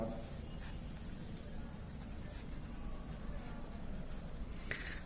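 A pen or pencil scratches across graph paper while a geography practical's population pyramid is being drawn, a faint, steady, close scraping with a few small taps and no speech.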